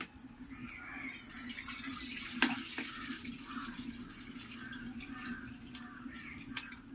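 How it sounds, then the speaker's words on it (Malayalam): Water pours steadily into a cooking pan before vermicelli is boiled: a soft, continuous close trickle with a few small drips and clinks, fairly quiet throughout. "അപ്പം അതിനായിട്ട് ചീനച്ചട്ടി വെച്ച് കൊടുക്കാം, പിന്നെ കുറച്ച് വെള്ളം ഒഴിച്ചു കൊടുക്കാം."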